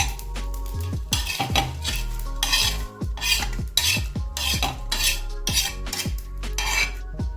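A spoon scrapes roasted coriander seeds and masala out of a hot pan in quick repeated metallic strokes over a soft sizzle, close and busy, with no talking.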